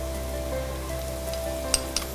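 Spices frying in hot oil for a chicken masala give a faint, steady sizzle over a low hum, with a couple of sharp clicks from a utensil near the end.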